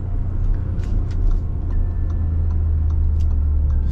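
Bentley Bentayga SUV engine under acceleration, a loud, steady low drone with faint ticking clicks on top, heard alone without talk.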